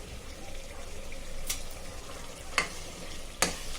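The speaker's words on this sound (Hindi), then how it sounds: "अभी ये बिरिस्ता और टमाटे को अच्छे से भूनेंगे।" Birista fried onions and tomatoes frying with ginger and garlic for zafrani biryani, a steady low sizzle with a few sharp stirring clinks of a utensil against the pan.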